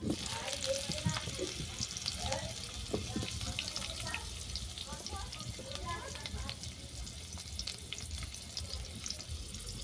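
Chopped raw mango hits the hot oil and spice tempering in a pan, giving a steady moderate sizzle with faint clinks of utensils and a low voice in the background.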